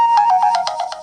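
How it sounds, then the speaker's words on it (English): A phone ringtone plays alone, a bright repeating electronic melody of short pulsed tones, loud and close throughout. "The phone rings."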